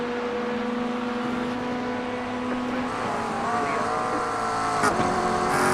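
Race car engine in the iRacing sim at Road America, droning steadily under faint talk, with the pitch shifting around a missed upshift before climbing again and a short sharp burst near the end.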